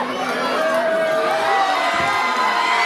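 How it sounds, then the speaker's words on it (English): A Blackpool crowd at a live pro wrestling show cheers and shouts in a steady, dense roar that holds for the whole moment, with whoops rising over the broad noise. "And the Blackpool crowd are loving it."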